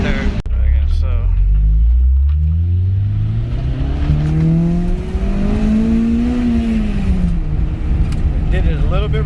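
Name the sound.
car engine revving to 6,000 RPM in second gear, hesitating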